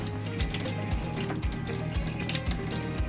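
Water rushes steadily through a newly installed Carico/Nutraway purification system, a dense continuous flow with repeated low thumping surges of water impact, no talking.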